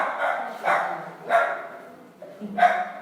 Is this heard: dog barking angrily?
yes